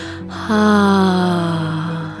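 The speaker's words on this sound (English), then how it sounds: "take an audible exhale with the sound of HA" One person exhales audibly on a long, voiced "ha" during a breathing exercise. The sound swells near the mic and holds steady for nearly two seconds before fading.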